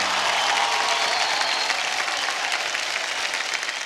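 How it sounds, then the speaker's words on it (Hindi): Loud, sustained applause from an audience at a live morning prayer assembly, a dense wash of clapping that stays steady and close for the whole stretch with no speech over it. "एक बार जोरदार तालियां हो जाए।"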